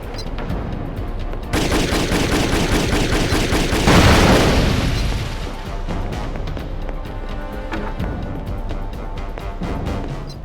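Sustained gunfire from the video game Rise to Honor in a dockside setting, loud dense bursts and rapid volleys running continuously with a heavier burst midway, no talk over it.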